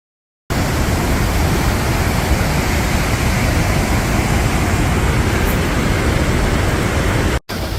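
A waterfall in an Icelandic valley roars as a loud, steady wash of white noise that holds unbroken for about seven seconds before briefly dropping out near the end.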